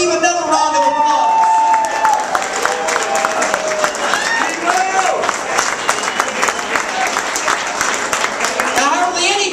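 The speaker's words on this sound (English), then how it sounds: "Let's give Steve another round of applause." A crowd at a political fundraiser applauds and cheers, dense clapping with whoops and voices calling out, fairly loud and sustained throughout.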